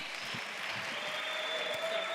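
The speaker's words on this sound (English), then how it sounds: "let's clap hands for him." A classroom audience claps for a student, a short steady patter of hands at moderate level that continues through the whole moment without speech.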